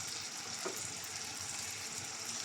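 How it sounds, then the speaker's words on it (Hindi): Hyderabadi-style chicken masala fries in oil with a freshly ground spice paste, giving a constant even sizzle at moderate level with one faint scrape partway through. "और 1 से 2 मिनट मसालों के साथ चिकन को अच्छी तरह से भून लेंगे।"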